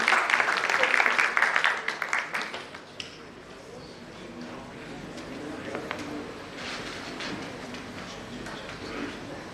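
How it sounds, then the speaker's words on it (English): Audience applause at a TiE Lucknow business-owners' event for Mr. Kewal Kishan: dense clapping for about three seconds that thins out into a quieter room murmur with faint voices. "Please give a round of applause to Mr."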